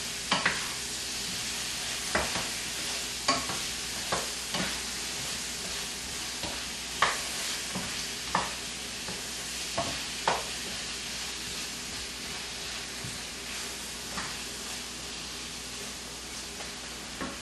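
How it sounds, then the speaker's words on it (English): Pepper stirred into a sizzling frying pan: a steady bright hiss of frying under repeated scraping strokes of a spoon, close and fairly loud, with no talking. "We'll give it a stir."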